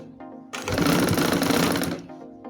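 A sewing machine stitches party-wear frock fabric in one steady, loud, continuous run of about one and a half seconds, starting and stopping abruptly, with quiet moments before and after.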